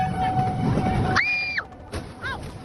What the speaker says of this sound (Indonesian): KRL jurusan Jakarta Bogor sudah mendekat